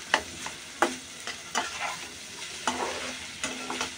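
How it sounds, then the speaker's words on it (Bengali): Bitter gourd frying in a pan until well browned, salted along the way, with a spatula scraping and tapping against the pan every so often over a low, steady sizzle. "একেবারে পোড়া পোড়া করে ভাজে নিতে হবে কিন্তু।"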